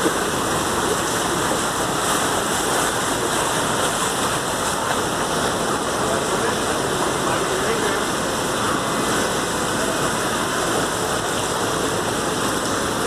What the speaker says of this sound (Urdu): یہ سارا سیوریج کا پانی ہے، یہ مسجد میں تیر رہا ہے۔